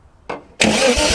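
A 1971 Datsun 240Z engine gives a brief crank, pauses, then catches and runs steadily at a loud, close idle with no talking over it.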